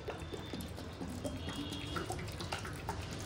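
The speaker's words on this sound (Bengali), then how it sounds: "ভাতটা 2-3 বার জল দিয়ে ধুয়েছি, এবার একটুখানি এর মধ্যে জল দিয়ে দিই।" Water trickles and splashes into a pot of hot cooked rice, a soft continuous pouring with small drips in a home kitchen and no talking.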